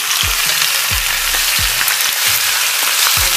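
Marinated pork soft bones sizzle loudly in hot oil in a wok, a dense continuous frying hiss with a few soft rhythmic stirring thumps, close and alone.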